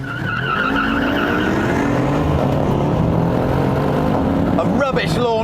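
A Mercedes-Benz E63 AMG S or BMW M6 Gran Coupe launches hard from a standstill, its engine revving and tyres squealing close by, with people talking over it.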